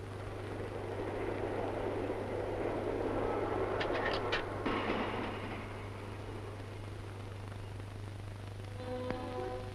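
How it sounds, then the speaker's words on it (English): Low steady rumble of an idling train in a yard, with a brief burst of hissing air and a faint high tone near the end. "In the yards, the trains are tested"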